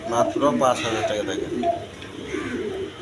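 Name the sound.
pigeon cooing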